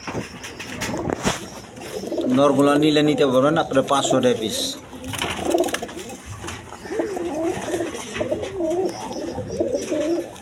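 Two male Racer pigeons coo close by in a throaty, rolling burst, with someone talking over and between the coos throughout.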